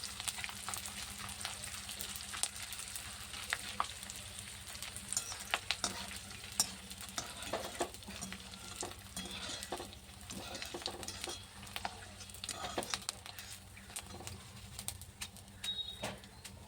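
Ragi ladoo dough pieces deep-frying in hot oil, a steady soft crackling sizzle running throughout with scattered brighter pops, fairly quiet and close, no voices.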